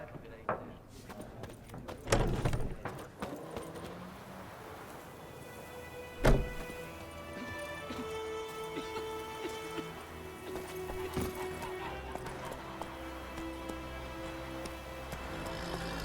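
Horse hooves clip-clop through a stretch of The Witcher 3 on Xbox One, with irregular steps and scattered knocks under continuous game ambience, where a rider's voice urges the horse on.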